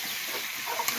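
Pumpkin dropped into cooked-down spice paste in a pan for a shrimp curry sets off a brief burst of soft hissing sizzle and stirring, close and fairly quiet.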